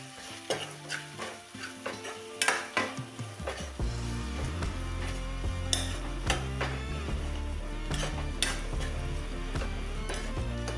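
Okra and tomato with fenugreek powder being sautéed in a pan, a steady sizzle with stirring scrapes and light clinks of utensil against metal, close and continuous throughout.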